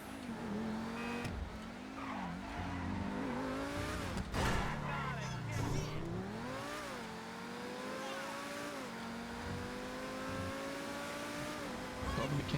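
Car driving in the video game Satisfactory, engine droning with rising and falling pitch and bursts of tire squeal, loud and steady throughout with faint voices over it.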